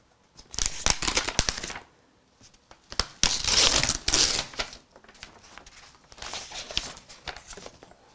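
Shrink wrap being torn and peeled off a reissued vinyl record, crackly crinkling bursts in several close, loud rips separated by short pauses, with no talking.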